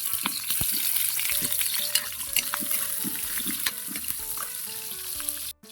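Garlic and onion sautéing in hot cooking oil, a steady close sizzle and crackle with occasional stirring scrapes, alone without voices until a brief drop near the end.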